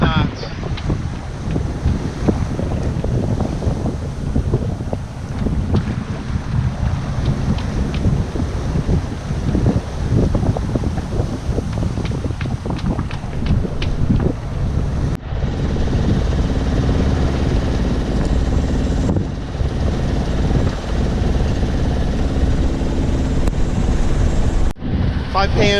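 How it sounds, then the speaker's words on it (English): Waves and strong wind behind the stern of a Dana 24 sailboat surfing down swells while sailing toward Ensenada, Mexico, giving a loud continuous roar with gusty wind buffeting the microphone and rushing water surging throughout. "We get some pretty good waves behind our stern"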